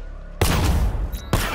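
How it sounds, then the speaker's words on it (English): Controlled explosion set off by a power winch in Batman: Arkham Knight, two heavy, booming blasts close together, the second arriving about a second after the first. "I can use the power winch to trigger a controlled explosion"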